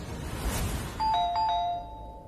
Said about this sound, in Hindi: कौन इतनी जोर से बेल बजा रहा है?